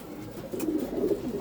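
Racing pigeons at a home loft give faint, soft, wavering coos that come and go in a low murmur, quiet and alone without any talk.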